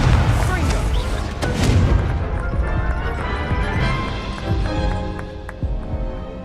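A Confringo fire spell blast in the Hogwarts Legacy video game, heard as a loud, dense burst of crashing, booming impacts that rolls on steadily for several seconds, with game music or effects layered beneath.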